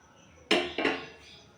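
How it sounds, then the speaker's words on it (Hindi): Black pepper and cloves are pounded for a home cough remedy, giving two sharp metallic knocks about a third of a second apart, close and fairly loud, with a faint ringing tail. "इन दोनों को कूट कर डालें।"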